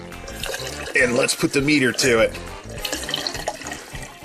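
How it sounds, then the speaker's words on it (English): Water is squeezed out through a water filter bottle into a mug, trickling and splashing in short bursts close by while a person talks. "let's squeeze out some water here"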